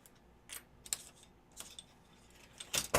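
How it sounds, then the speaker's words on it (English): Small drone frame screws and standoffs are handled up close, giving a few scattered light metallic clicks and jingles separated by quiet gaps, with a brighter cluster at the end. "And this is the assortment of screws"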